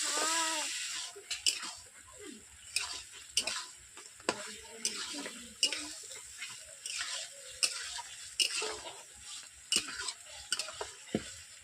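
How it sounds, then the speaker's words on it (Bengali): Chicken for a homestyle country chicken curry sizzles and spatters in hot oil in a pan, with steady frying crackle, repeated stirring scrapes and occasional louder pops, close and continuous. "চিকেন থেকে তেল ছিটাচ্ছে দেখতেই পাচ্ছেন চিকেন কষা হয়ে গেছে"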